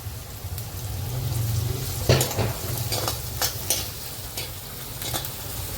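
Garlic and onion fry in a pan for a soya bean curry, a steady close sizzle broken by several sharp stirring scrapes of a spoon against the pan, with no talking.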